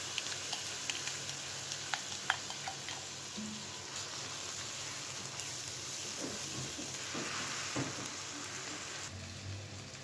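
Garlic and coriander sizzling steadily in a hot pan, a soft continuous crackle with occasional light stirring clicks, no voices.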